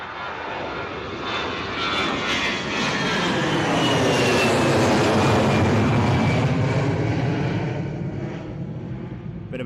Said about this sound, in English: Whoa, big bouncy crosswind departures.